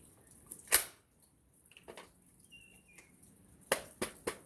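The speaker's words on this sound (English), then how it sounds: "I just heard some weird bird." Outdoors, a bird gives a faint, brief whistled call in the distance, between a few sharp nearby clicks and snaps.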